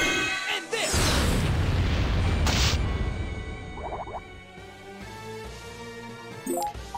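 A Soaring Fire attack in Disgaea 2 lands with a heavy booming blast that swells and rumbles, followed by crackling debris, a whooshing sweep and a few sharp hits as it fades.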